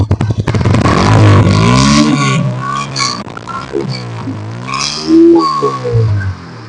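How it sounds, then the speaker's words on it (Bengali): A TVS Apache RTR 160 motorcycle engine revs hard nearby, its pitch climbing and falling through several loud throttle blips in the open air, with no voices over it. "গাড়ির সাউন্ডের থ্রোটলটা একটু দেন।"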